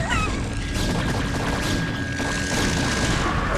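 StarCraft: Remastered battle with probes fighting, a dense, loud wash of explosions, crashes and weapon impacts that continues without a break.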